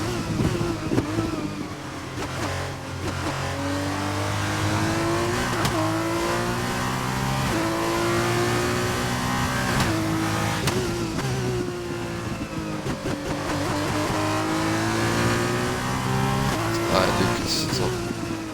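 Race car engine in the rFactor 2 sim racing game at the Austrian GP, a loud sustained engine note rising and falling through repeated gear shifts and revs, with a commentator talking over it.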